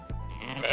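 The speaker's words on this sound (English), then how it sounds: "It's a sheep." A sheep on a farm gives a single bleat up close, loud and wavering, with a short burst of noise at the start and no talk over it.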